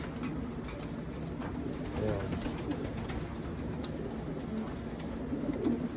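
Racing pigeons coo steadily at a loft during a long-distance race, soft overlapping calls over a constant background hum, with no talking.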